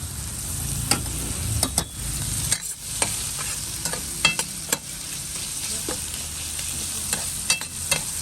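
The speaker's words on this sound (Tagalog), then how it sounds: "haluin ko lang ang patatas at saka carrots para magpantay ang luto" Potatoes and carrots cook in a pan with a loud, steady frying sizzle, while a utensil stirs and scrapes them in repeated knocks throughout.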